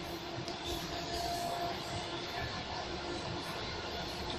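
Steady rumble and rattle of a moving suburban electric train heard from inside the carriage, continuous and fairly quiet, with no talking.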